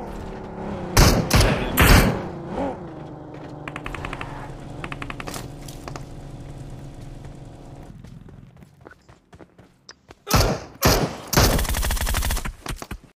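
Bursts of rapid gunfire crackle in loud volleys, separated by a stretch of tense droning music before more shots ring out.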